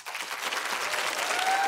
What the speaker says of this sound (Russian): Ребята, вы слышите эти аплодисменты?